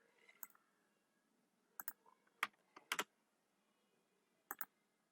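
Keys on a computer keyboard are typed in a few sparse, quiet clicks and short clusters, with long pauses between and faint room hum behind.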